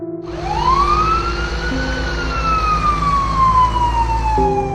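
An ambulance siren winds up and holds a rising, falling wail, loud and close, over a steady engine rumble.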